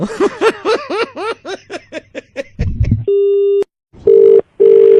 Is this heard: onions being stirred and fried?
no